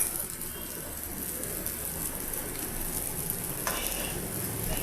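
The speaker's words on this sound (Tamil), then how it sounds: "நல்லா கொதிக்க விடுங்க." Dried fish curry (karuvadu kuzhambu) simmering in a pot on the stove gives a steady, close bubbling sizzle with no gaps, moderately quiet throughout.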